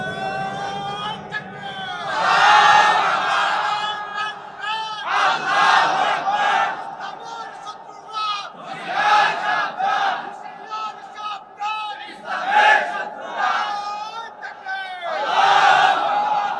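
A large crowd at a religious sermon gathering chants slogans in loud, rhythmic, repeated unison bursts with short pauses between them, filling the space.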